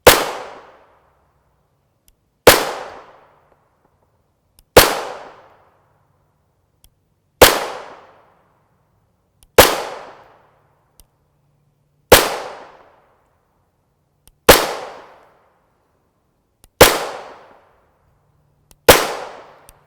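Subsonic 9x19mm pistol rounds, 151gr FMJ Barnaul ammunition with zinc-plated cases, fired one at a time: nine sharp, evenly spaced shots about two seconds apart, each a loud crack with a short decaying tail and silence between.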